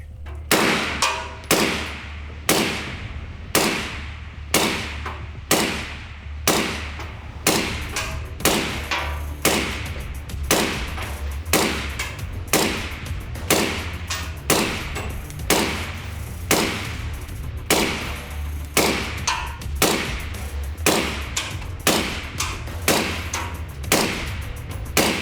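A suppressed 5.56 NATO rifle fitted with a KGM R556A2 suppressor fires a long string of shots at a steady pace of about one per second. Each shot is a loud, sharp thump over a constant low background hum.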